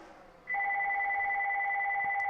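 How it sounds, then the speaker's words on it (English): A phone goes off mid-recording with a steady electronic two-tone ring that starts abruptly and holds loud and continuous to the end. "My phone just went off while I'm recording this."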